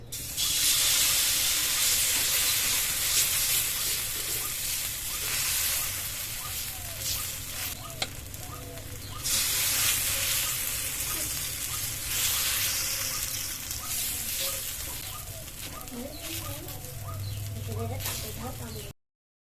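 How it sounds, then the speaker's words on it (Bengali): Paneer besan paratha batter sizzling in hot white oil in an aluminium pan, a steady loud hiss and crackle that runs throughout with soft talk underneath. "তেলটা গরম হয়ে গেছে, এবার ব্যাটার দিয়ে দেবো।"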